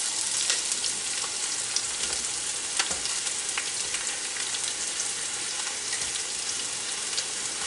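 Green onions sizzle and fry steadily in a hot pan while braised pork belly is being prepared, a dense, continuous crackle with occasional louder pops, close and alone without talk.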